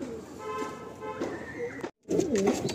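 A pigeon coos softly and low nearby, a second throaty phrase following a brief gap, with talking mixed in.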